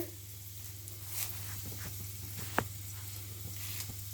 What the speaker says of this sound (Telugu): ఇవన్నీ కూడా బాగా వేగాలన్నమాట ఎర్రగా ద్వారగా వేగాలి